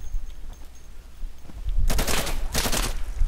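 Video game gunfire cracks out in two loud rapid bursts, a sustained volley followed by a second close, dense burst, with no talking over it.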